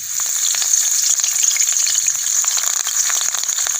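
A loud, steady hiss of fresh curry leaves frying in hot oil, with dense crackling and spitting and no voices.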